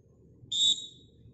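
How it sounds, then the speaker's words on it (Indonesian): A single short, shrill whistle blast, clear and fairly close, starts a children's jumping game in a school physical education lesson, ringing out alone over a quiet background hum. "peluit bunyi berarti harus lompat"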